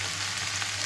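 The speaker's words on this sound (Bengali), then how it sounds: "সবজিগুলো ভাজা হয়ে গেছে প্রায়" Vegetables frying in a pan, a steady close sizzle with a low hum underneath, even and unbroken for a brief moment.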